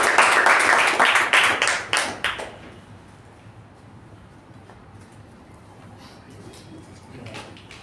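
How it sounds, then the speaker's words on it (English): A Toastmasters meeting audience gives a short burst of applause that fades after about two and a half seconds into quiet room tone, with a faint tap near the end. "Let's give him a huge round of applause."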